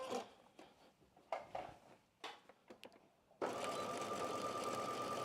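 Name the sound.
sewing machine basting stitches on a zipper area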